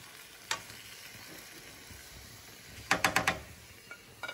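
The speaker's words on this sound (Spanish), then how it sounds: "Lo voy a sofreír un poquito hasta que se desbarate la verdurita" Vegetables sautéing in a pan for chicken vegetable broth give a low steady sizzle, broken by a sharp clack and then a quick run of four or five clattering stirring knocks.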